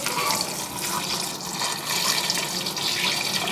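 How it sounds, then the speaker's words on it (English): Water pours from a tap into a pan of roast cauliflower and parsnip soup, a close, steady splashing flow that rises and falls slightly over a few seconds. "So I'm going to add a little bit more water because obviously we're going to cook it down"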